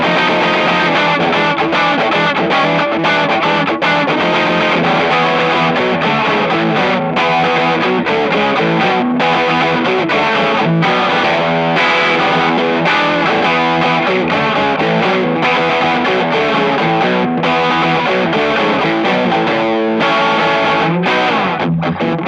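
An electric guitar plays through a Funny Little Boxes 1991 overdrive pedal with the first gain knob off and the second around noon, giving loud, dense, driven chords and riffs that carry on continuously without pause.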